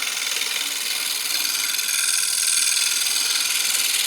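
A carbide woodturning tool cutting the inside of a wooden bowl on a lathe gives a steady, bright, hissing scrape that carries on throughout, close and without any talk.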